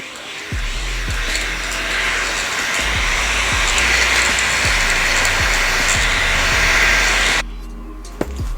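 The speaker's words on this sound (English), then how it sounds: "so I'm using my eyelash fan" A small battery eyelash fan blows steadily to dry freshly applied makeup, a continuous close whirring hiss with faint low clicks, cutting off abruptly near the end.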